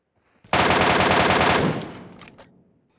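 An MK14 rifle in PUBG fires a single sustained automatic burst of about a second, loud and close, followed by a fading echo and a few faint trailing clicks.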